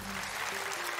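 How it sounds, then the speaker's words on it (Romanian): Audience applause at a stand-up comedy show, a dense, even wash of clapping from a crowd filling the whole moment without a break. "Oh, aplauze la Adrian Copilu."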